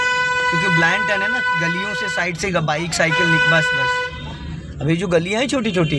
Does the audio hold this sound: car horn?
yes